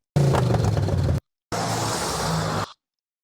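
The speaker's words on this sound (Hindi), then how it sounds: "अब ये मेरे पास एक साउंड इफेक्ट है जिसमें थोड़ा सा एक्सीलरेटर की आवाज़ है" Two short bursts of a car engine revving, each about a second long, separated by a brief silence, loud and close.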